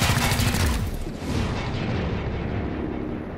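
A heavy burst of gunfire and explosive blasts in a tactical squad video game erupts loudly at close range, a dense rumbling roar that dips briefly then carries on as a sustained, fading barrage.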